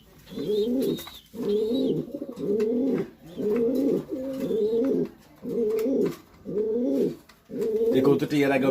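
Racing pigeons coo in a steady series of rolling, throaty phrases, about eight in a row with short gaps between them, close and clear, with faint higher chirps now and then.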